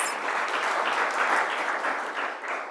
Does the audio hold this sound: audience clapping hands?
yes